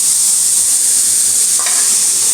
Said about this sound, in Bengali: তেল দিয়ে আমি একটু শাকটাকে একটু ভেজে নিলাম।